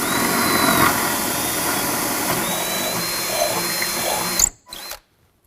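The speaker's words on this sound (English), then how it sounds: "I'm going to use a 3/8 drill bit" A power drill with a 3/8-inch bit whines loudly and steadily drilling into a ceiling for several seconds, then stops abruptly after a brief final burst.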